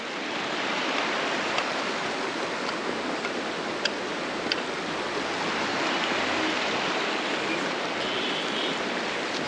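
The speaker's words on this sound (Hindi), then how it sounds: "नदी" A river beside a bridge in the Uttarakhand hills flows in a steady, full broadband rush, with continuous churning water close by and no voices over it.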